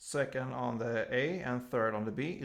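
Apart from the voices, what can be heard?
No everyday noises stand out.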